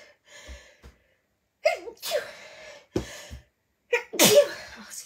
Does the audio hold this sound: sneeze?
yes